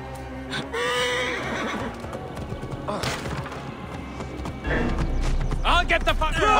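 Horse in the Assassin's Creed Origins video game, with loud whinnies and neighs over thudding galloping hooves, plus a burst of heavier impacts toward the end and a voice speaking in between.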